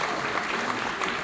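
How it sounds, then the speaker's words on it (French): Cruise ship passengers applauding together in a large, dense burst of clapping that stays loud and steady throughout the brief moment. "Donc vous pouvez vous applaudir fortement."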